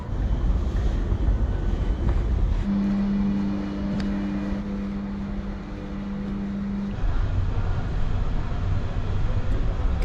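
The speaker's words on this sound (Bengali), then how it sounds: "ট্রেনে করে প্রাগ" A train running from Pilsen to Prague, heard from inside, makes a steady low rumble throughout. A sustained humming tone rises in the middle for several seconds before the rolling noise continues alone.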